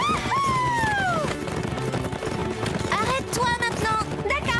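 Rhythmic hoofbeats of a galloping horse in the cartoon Horseland, with music and excited shouting layered over them throughout.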